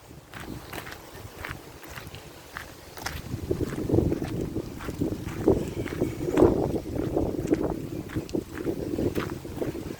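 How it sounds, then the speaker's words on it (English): Gusty wind by a riverside buffets the microphone, producing low rumbling bursts that rise and fall in waves, with faint crunching footsteps on a walk along the bank. "Excuse the noise, whānau, if you can hear the wind in the background."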